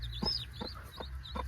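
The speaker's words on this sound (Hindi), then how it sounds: "जो मैंने मुर्गियाँ अंडों पे बिठाई थी उनमें से एक मुर्गी ने चूजे निकाले हैं।" A hen clucks with her newly hatched chicks on a desi poultry farm in Jammu, giving four short, evenly spaced clucks while high, thin chick peeps arc above them, all close by over a low steady hum.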